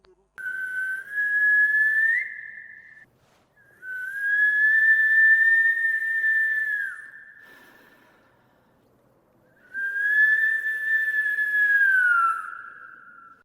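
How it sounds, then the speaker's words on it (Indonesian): Three long, steady whistled notes, each held for a couple of seconds with short pauses between, clear and fairly close, whistled to summon a ghost. "bersiul untuk memancing kedatangan hantu"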